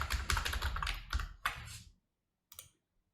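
Fast bursts of keystrokes on a computer keyboard, close and clear, pausing briefly, then a final short flurry before silence.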